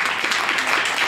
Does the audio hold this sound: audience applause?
yes